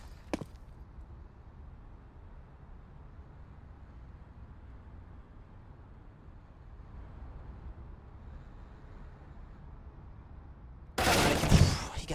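AWP sniper rifle fire in Counter-Strike on the Overpass map during an esports match: a faint quick report near the start, a long quiet stretch, then a loud sharp burst of gunfire at the end.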